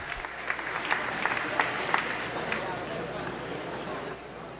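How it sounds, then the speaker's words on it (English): A crowd at a boys varsity swim meet applauds the divers, a steady wash of clapping echoing through an indoor pool hall, fading slightly toward the end. "Let's give all the divers a quick round of applause"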